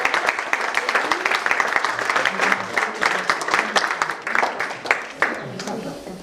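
An audience at a book fair applauds steadily, with dense clapping that keeps going for several seconds and tails off a little near the end.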